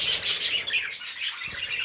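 Harlequin pet birds calling close by indoors, with a steady stream of high chirps and twittering from several birds, continuous and fairly loud.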